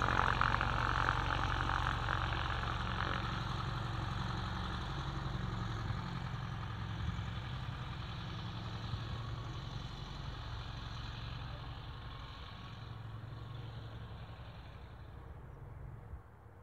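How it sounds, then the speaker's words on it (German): The Sauer 1800 engine of a Comco Ikarus C22 ultralight aircraft runs steadily at idle, a continuous low droning hum with a buzzy edge, fairly close and unchanging, with no talk over it. "Motor klingt so schön, das ist Wahnsinn."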